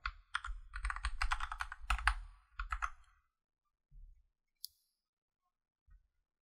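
A computer keyboard clatters through a fast burst of typing as a password is entered, followed by a few sparse, isolated key taps and clicks in a quiet room.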